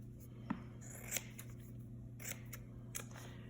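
Scissors snipping through nail polish remover pads, several quiet, close cuts spaced about a second apart over a faint hum.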